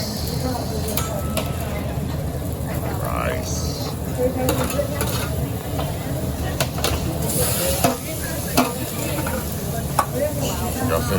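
Shrimp and rice cooking on a hibachi grill at a Japanese steakhouse, a steady sizzle and fry hiss with scattered sharp taps and scrapes of the spatula on the hot griddle and quiet background chatter.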